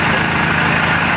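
Engine of a borewell drilling rig running at the start of drilling near farmland, a steady, dense, loud mechanical drone with no breaks and no voices.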